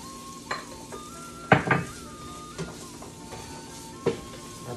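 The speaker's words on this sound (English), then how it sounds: "And now to our pan, I'm going to add our vegetables." Carrots, broccoli florets and red peppers hit a hot pan of ginger and garlic in a Chinese stir-fry, sizzling steadily while a utensil clanks and scrapes against the metal in several sharp knocks.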